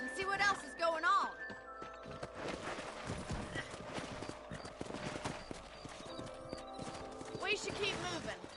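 Horse hooves clip-clop steadily in Red Dead Redemption on PlayStation 5, riders moving along at a walk with an occasional whinny, under game dialogue and music.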